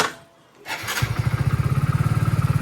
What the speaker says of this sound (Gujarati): એક્ટિવા સ્ટાર્ટ થવા દઈએ